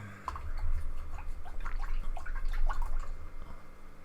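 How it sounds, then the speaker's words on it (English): Paintbrush swished and tapped in a water pot during landscape painting, soft irregular drips and gurgles close by for a few seconds. "just washing my brush in some water."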